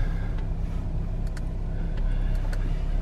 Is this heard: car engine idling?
yes